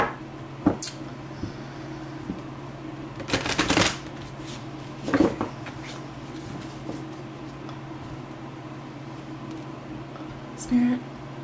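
Tarot cards are shuffled in a few short, crisp bursts, each lasting about a second, spaced apart in a quiet room with a low background hum.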